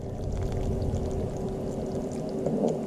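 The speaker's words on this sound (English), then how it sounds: "I really want to add some hot water" Hot water, heated in a microwave, pours steadily into a pot for Greek dolmades, a close, continuous splashing gush that holds for a few seconds and then tapers as the pour ends.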